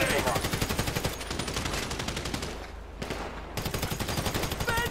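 Sustained automatic gunfire in GTA 5 during a heist shootout with mercenaries, rapid rhythmic bursts loud and close, briefly thinning before resuming, with voices shouting over it.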